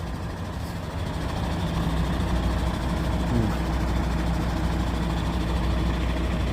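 Large heavy truck heading from Gunung Tua to Java idling on a hill road, a steady low diesel rumble close by with no talk.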